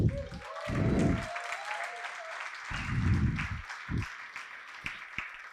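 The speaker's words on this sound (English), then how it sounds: "Please join me in giving them a collective round of applause." Audience clapping at a health-tech accelerator demo day, fairly quiet and distant, with low thumps and brief murmurs of voices breaking through the patter.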